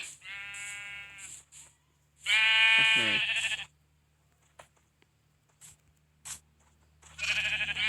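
Minecraft sheep give several loud, clear bleats in separate bursts, with short quiet gaps and a few soft game clicks between them, and no talking.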